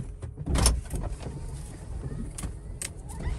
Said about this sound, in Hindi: हमने एक गाड़ी स्टार्ट की है